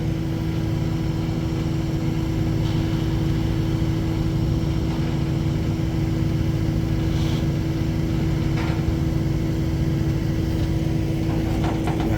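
A tractor engine drones steadily and loudly close by while deer tower blinds are moved, with a few faint knocks and clanks over the continuous rumble.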